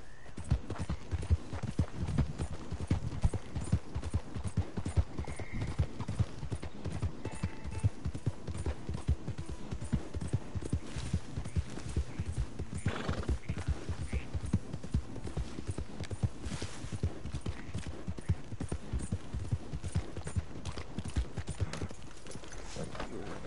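A horse gallops in the Red Dead Redemption 2 video game, with a steady, continuous run of hoof clip-clops that rises and falls slightly in loudness and an occasional snort.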